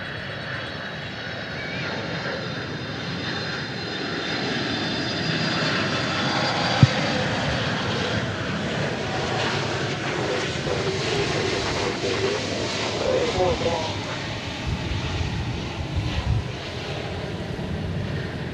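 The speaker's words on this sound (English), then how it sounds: "now we can see this big cargo lux arriving from Mexico City" A large Cargolux cargo plane arriving at DFW from Mexico City, its engine roar building and sustained for many seconds with a brief click partway, heard at a distance, with faint talk now and then.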